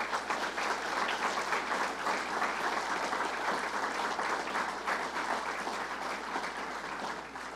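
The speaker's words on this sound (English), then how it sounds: "So let's give them a round of applause." Audience applause at a governor's jobs announcement event, a large crowd clapping in a sustained even wash for over seven seconds, slightly distant and tapering at the end, with no talk over it.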